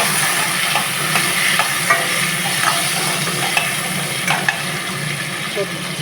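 Curry leaves stirred and frying in a pan make a loud, continuous crackling sizzle with frequent spatula scrapes throughout, close and without talk.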